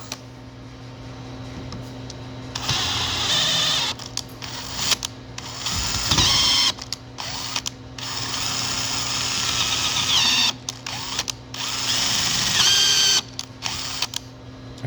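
A power drill set to low speed whirs in bursts, starting and stopping repeatedly with a steady motor drone at a fairly low pitch, close by, while adding helicoils to a stripped heat-set insert.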